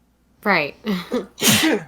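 A person sneezes in a tabletop game session, a sharp close burst followed by a second louder sneeze, with a brief spoken word between them.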